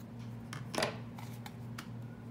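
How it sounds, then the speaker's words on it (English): Scissors cutting a piece of white twine, with a single quiet close-up snip followed by a few faint clicks over a low steady hum. "I'm gonna go ahead and cut a piece off"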